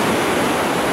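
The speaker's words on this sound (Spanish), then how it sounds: "Este es el río." River flowing past the hot springs at Machu Picchu, a loud, dense, continuous rush of water that is close and steady with no other sounds over it.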